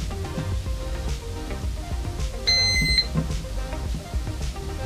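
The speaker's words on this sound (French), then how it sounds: "On a une petite sonnerie d'alarme qui nous indique que la batterie répond parce qu'elle est chargée." A battery is connected to an airsoft AEG and sets off a short, piercing electronic alarm beep lasting about half a second, heard over a busy background hum.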